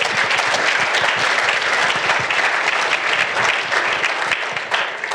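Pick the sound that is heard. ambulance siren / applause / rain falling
applause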